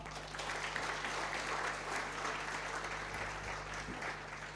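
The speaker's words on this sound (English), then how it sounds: "Can I request that we also give our moderator a big," A conference audience at a capital markets event claps for the panel moderator, a sustained, even round of many hands lasting several seconds with a low hum underneath and no voices on top.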